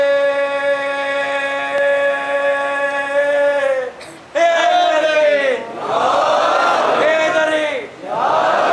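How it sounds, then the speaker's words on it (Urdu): A crowd at a Muharram majlis raises loud slogans in unison, call-and-response bursts following a sustained chanted line, with brief pauses between each collective shout. "نعرے"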